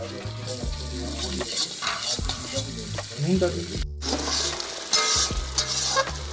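Tomato goes into a hot pan of spiced fish curry gravy, bursting into loud sizzling and frying with clattering stirring and scraping, the hiss swelling and settling in waves.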